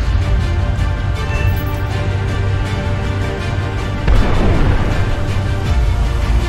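Continuous rumbling gunfire and missile launches from modern helicopters against biplanes in War Thunder, with a sharp burst near the end, loud and dense, typical of game combat.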